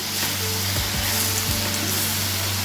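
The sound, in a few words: ivy gourd sizzling as it is sautéed in a clay pot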